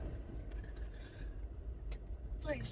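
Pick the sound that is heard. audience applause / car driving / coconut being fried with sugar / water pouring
car driving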